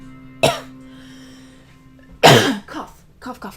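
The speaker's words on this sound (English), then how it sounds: "Cough, cough, cough" A person coughs, one sharp burst followed by a louder cluster of coughs and throat-clearing sounds, close and clear against a quiet indoor background with a faint steady hum.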